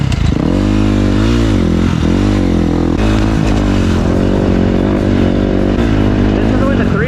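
A 350 motorcycle works through soft terrain, its engine droning loud and close with shifting revs, scrapes and clatter, while people talk over the noise.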